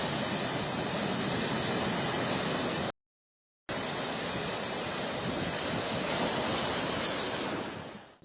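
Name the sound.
rough sea waves crashing on the coast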